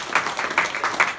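Congregation clapping together in a church after a sermon, a short burst of steady, moderately loud applause with a few pulsing swells and no talk over it.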